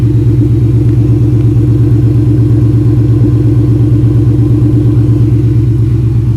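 A 2003 Ford Mustang SVT Cobra idles loudly and close while warming up, its deep engine rumble steady and pulsing with an even rhythm, and no voices over it.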